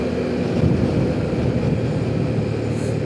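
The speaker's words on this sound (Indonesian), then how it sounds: "Anginnya lumayan kencang juga ya teman-teman" Strong wind buffets the microphone of a DJI Action 4 on a motorbike ride near BSD, Tangerang, at sunset: a steady, loud, broadband roar with low rumble and no pauses.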